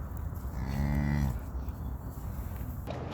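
A cow in a herd waiting to calve gives one long, close, loud moo, followed by quieter farm background noise.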